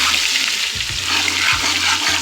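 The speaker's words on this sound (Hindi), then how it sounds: "अब इसके अंदर जाएगा हमारे पास अदरक लहसुन का पेस्ट 2 चम्मच। इसको हम सोते करेंगे।" Ginger garlic paste sautés in hot oil, giving a continuous bright sizzling hiss with a few soft low knocks of stirring, close and fairly loud, no voices.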